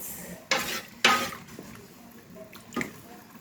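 Rice being stirred in a rice cooker pot, three or four quick scraping strokes of a utensil with soft wet clatter, close, in a quiet kitchen.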